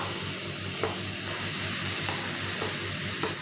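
Chopped banana and apple frying in butter in a hot pan make a soft, continuous sizzle with a few faint clicks of stirring, quiet and close, with no voices.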